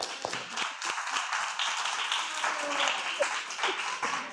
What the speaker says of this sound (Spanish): Un aplauso a Lulú.